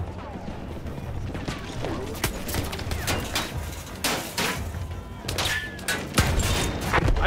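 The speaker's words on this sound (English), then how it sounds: "There's a guy shooting mortars at me." Battlefield 1 battle with repeated mortar and gun blasts, a dense run of sharp bangs and crashes at close to mid range, with scattered debris noise and no voices over it.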